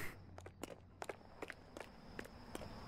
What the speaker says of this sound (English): Enjoy the dulcet sounds of these footstep sound effects. In a very echoey room.